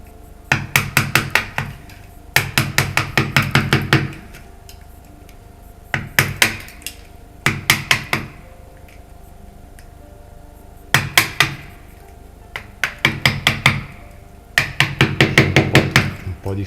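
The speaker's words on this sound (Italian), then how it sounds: "vi potete aiutare con un martellino di gomma tipo quello delle mattonelle" Bursts of rapid, sharp taps from a rubber tile mallet, close and fairly loud, coming in quick clusters separated by short pauses.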